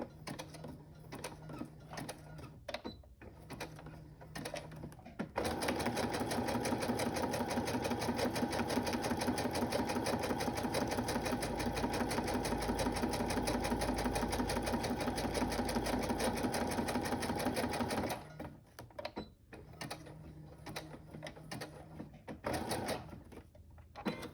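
A sewing machine stitches patchwork made from scraps, starting with a few short bursts, then running in one loud, steady mechanical whir for about twelve seconds before stopping and giving a few short stitches again.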